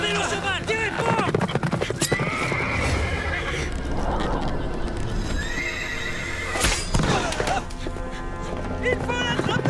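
Horses neigh repeatedly and hooves clip-clop at a gallop amid a loud animated chase scene with shouting voices and music.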